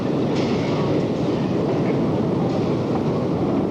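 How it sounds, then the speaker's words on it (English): A 1991 Soviet metro station, with a dense, steady roar of a train and escalators moving up and down, loud and continuous with faint rattling throughout. "escalators going up and down"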